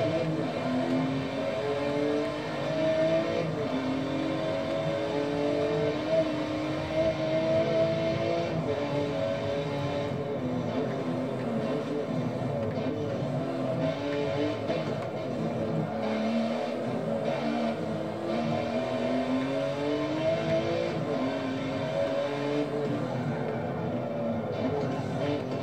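Race car engine in Forza Motorsport 7 drones steadily with rising and falling revs and gear changes, heard from inside the car, a continuous muffled roar with occasional tire noise; a voice speaks intermittently over it.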